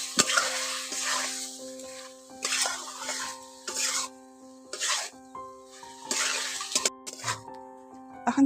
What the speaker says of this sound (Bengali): এই উপকরণগুলো দিয়ে আবার ভালো করে কষে নিচ্ছি